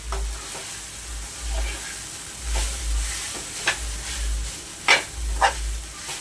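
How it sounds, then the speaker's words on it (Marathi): Sabudana khichdi stirred in a pan, soft sizzling with repeated spoon scrapes and a few sharp clinks against the pan, plus a low rhythmic hum in the background. "सगळं छान मिक्स करून घ्यायचं"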